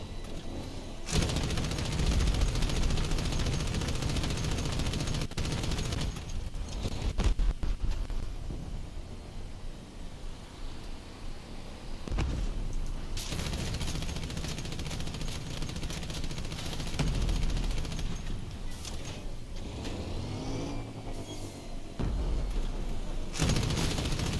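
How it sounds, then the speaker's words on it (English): A dense barrage of mixed projectile weapons fires in the vehicle combat game Crossout, overlapping booms, bursts and rapid shots that surge loudly in waves with brief lulls, no speech. "you have such a barrage of different projectiles"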